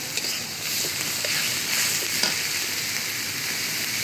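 Onions sizzle and crackle steadily in hot oil in a pan, a continuous close-up frying hiss with a few soft stirring clicks, no voices.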